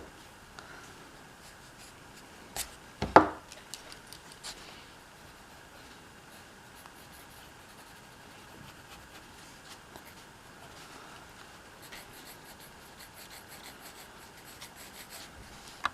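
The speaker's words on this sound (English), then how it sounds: "I'm going to take my eraser and erase some of these lines we don't need" An eraser rubs pencil lines off drawing paper, making soft, faint scratchy strokes with a few brief louder scrubs in a quiet room.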